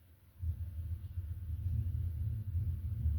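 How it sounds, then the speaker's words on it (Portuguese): An old car rumbles past outdoors, a low deep rumble that swells in after a quiet start and stays fairly loud and steady, mistakable for thunder. "Não é trovão não, é um carro velho."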